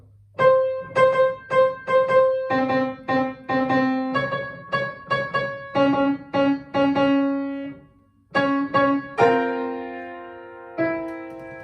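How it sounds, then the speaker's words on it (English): A piano plays the introduction of the choir piece "I Want God's Heaven to Be Mine", bright and moderately paced with repeated chords and melody notes, clear and close, ending with a few sustained ringing notes. "I'll just play it on the piano."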